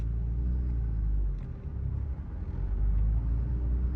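Porsche GT3 Touring engine pulling away from a stop, a steady loud low rumble that dips briefly and then swells again as the car moves off, with no talk over it.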